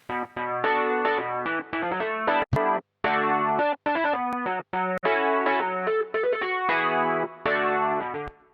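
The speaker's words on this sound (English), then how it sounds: "we got a Rhodes here that just has a lexicon reverb on it" A Rhodes electric piano played through a Lexicon reverb, its chords and single notes ringing alone in a steady rhythmic pattern, with brief gaps and a soft reverberant tail.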